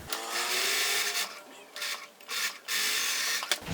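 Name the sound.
sewing machine stitching a 5/8 inch seam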